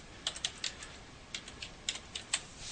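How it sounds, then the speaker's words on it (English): Keys clack on a computer keyboard in short uneven bursts of quick taps with brief pauses between them, close but quiet in a hushed room. "Now I'm going to type something."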